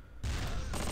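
In the WWII tactical game Close Combat: Panthers in the Fog, a shell rips through a building with a sudden loud blast that cuts in after a quiet moment and keeps up as a rough, dense roar.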